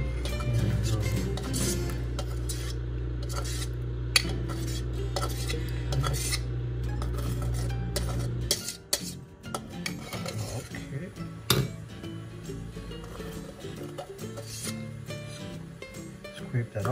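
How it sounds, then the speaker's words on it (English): A utensil scrapes and clinks against a pot while oil is skimmed off Belizean cow foot soup, steady stirring scrapes up close with a low background hum, then scattered clatters. "Scrape that off."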